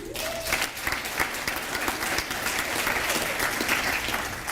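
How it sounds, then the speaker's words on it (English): Dense, sustained audience applause fills the room steadily from start to finish, a crowd clapping at a political or religious speech event with no voices rising above it. "you can applaud"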